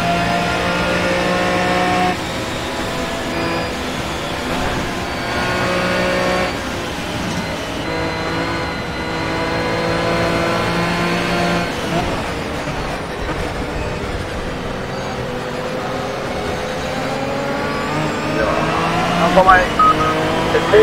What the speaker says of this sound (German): Mein Gott, der Aston Martin hat so einen geilen Sound.